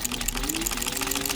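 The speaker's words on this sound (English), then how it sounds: "You can hear that the buttonholer is very, very smooth." A Singer sewing machine fitted with a buttonholer attachment stitching a zigzag buttonhole in fabric, a steady, smooth, rapid mechanical whir with even stitching clicks, close and continuous.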